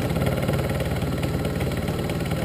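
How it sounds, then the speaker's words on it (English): Steel T-slot nuts being cut on a TM25V/PM25 milling machine with coolant, giving a loud, steady, rhythmic mechanical drone at a constant feed with no pauses. "milling in the X-axis."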